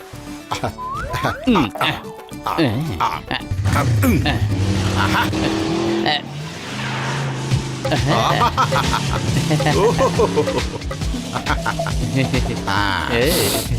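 Cartoon motorbike ride with brakes that fail to stop the bike, heard as a loud, continuous engine drone with revving and tire-squeal-like effects, under lively character voices and background music throughout.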